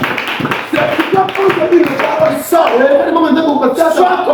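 Worshippers in a church congregation clap rhythmically in praise, with singing and voices mixed over the steady claps.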